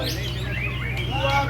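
A murai medan songbird sings at a bird song contest in Mamuju, Indonesia, pouring out rapid, bright whistled phrases and sweeping chirps, loud and close over a steady low background hum.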